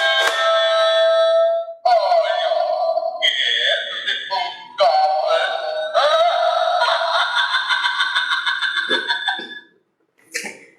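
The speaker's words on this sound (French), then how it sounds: "Après du coup on a une petite sonnette" Small battery-powered Halloween toy doorbell playing an electronic chime melody, bright warbling tones in a steady sequence for about nine seconds, loud and close, ending in a brief pause and a short final blip.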